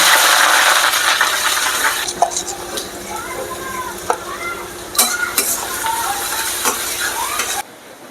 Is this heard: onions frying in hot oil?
yes